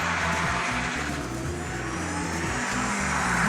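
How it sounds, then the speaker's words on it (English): Car engine droning and revving steadily during handbrake turns, a loud continuous mid-range roar with wavering pitch and no voices. "I'll try some handbrake turns."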